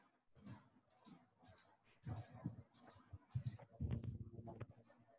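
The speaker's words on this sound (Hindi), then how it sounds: "अब जैसे मैं इस पे क्लिक करूंगा" A computer mouse clicks repeatedly while someone works in an Excel spreadsheet, giving a quick, irregular run of light taps with a faint murmur of voice underneath.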